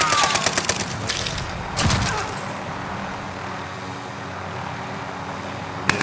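Gunfire in a shooter video game, a few bursts of rapid cracking shots near the start and around two seconds, with a fainter shot at the end over a steady background rumble.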